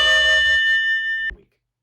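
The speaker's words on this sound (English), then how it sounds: "sorry about the bell." A school or campus bell rings during a recorded spring 2024 class lecture, a loud sustained electric ring that holds steadily for about a second and a quarter, then cuts off sharply, followed by silence.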